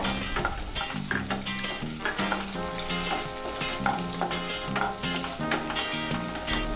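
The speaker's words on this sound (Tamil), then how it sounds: "வேறு ஒரு கடாயில் எண்ணெய் ஊற்றி அது காஞ்சதும் பூண்டு பச்சை மிளகா சேர்த்து வதக்கிக்கணும்" Garlic, green chilli, onion and capsicum sauté in hot oil in a kadai, giving a steady close sizzle with stirring beneath continuous background music, and no voices.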